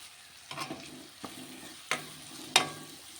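Chopped onions and curry leaves frying in a pan, a soft low sizzle punctuated by four distinct stirring scrapes and clacks, the last one sharpest, heard close up without speech.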